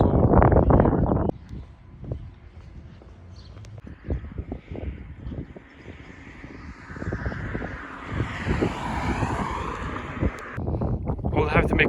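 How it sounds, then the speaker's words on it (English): Wind blowing across an open field in Germany, a steady broadband rush with strong gusts buffeting the microphone at the start and end, while crows caw faintly in the background. "I think my corners are so windy here."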